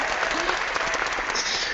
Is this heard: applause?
yes